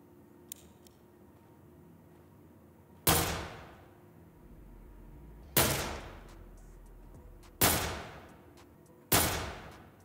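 Gunshots fired from a weapon in the video game Prison Simulator, four loud sharp blasts spaced a few seconds apart, each with a decaying tail, over a quiet background.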